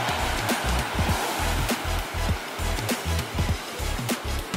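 Ocean surf at a local beach on Hawaii's east Oahu shore, waves rushing in and washing back in a loud, steady roar with rhythmic pulses, and no voices present.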